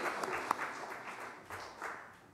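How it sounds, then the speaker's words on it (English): A Baptist church congregation gives a round of applause, a soft, fairly distant patter of clapping that rises and fades with a few sharper claps. "Let's give another round of applause."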